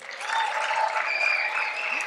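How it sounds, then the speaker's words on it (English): Applause from an audience greeting speaker Matt Mead, a steady broadband wash of clapping that holds at even loudness for about two seconds, with a faint tone running through it. "Big round of applause for Matt Mead."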